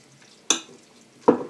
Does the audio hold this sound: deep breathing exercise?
no